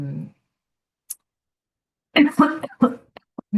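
A woman coughs in a few short, sharp bursts in a quiet room, alone and close to the microphone, with brief silences between.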